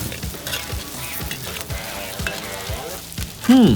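Onion, paprika, spring onion, tomato and pineapple sauté in a pan, a loud steady sizzle broken by repeated scraping stirs of a utensil.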